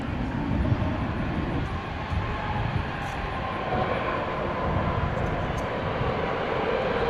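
An airliner on night landing approach to runway 18 right at DFW Airport makes a steady, broad engine roar and rumble that holds at a constant, fairly loud level throughout.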